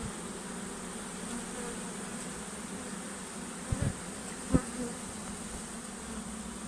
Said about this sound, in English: There's not so many bees flying around, so they've pretty much going in the box